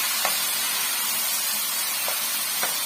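Alexandrian-style liver frying in a pan, a constant close hiss of sizzling with a few faint clicks of stirring scattered through.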